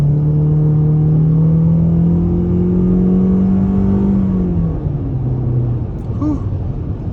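A car passes by outside while a 2022 Toyota C-HR XLE sits parked, a steady loud engine rumble and road roar that swells and then fades away as it moves off, alone without talk.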